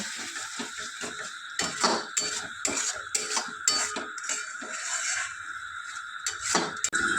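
Peas being stirred in a metal cooking pot for a vegetarian matar paneer, with repeated scraping and clinking strokes of a spoon against the pot, close and fairly loud, in an irregular rhythm with no talking.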